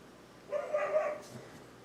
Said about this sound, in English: And the neighbor's dogs are barking.